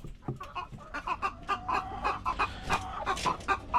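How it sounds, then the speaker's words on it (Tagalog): A pet chicken, struggling to stand, clucks softly in a coop, giving a quick run of short, rhythmic clucks close by with no one talking. "may isa pala ako dito na alagang manok"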